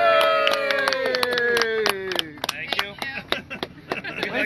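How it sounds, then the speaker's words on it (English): Applause at an award ceremony honoring two boat captains: voices at first, then scattered, uneven hand claps from a small crowd that grow sparser toward the end. "Big round of applause."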